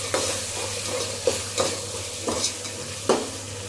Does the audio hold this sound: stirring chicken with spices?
yes